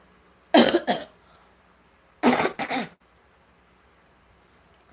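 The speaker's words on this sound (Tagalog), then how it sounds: "Kaya yung problema ko lang yung ubo ko," A woman coughs in two close bursts, each a double hack, with a quiet pause between them in an otherwise still room.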